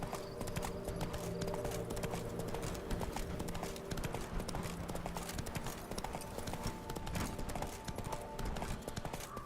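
Hooves of Roach, the horse in The Witcher 3: Blood and Wine, clip-clop in a brisk, steady rhythm throughout, close and loud over faint ambient game music.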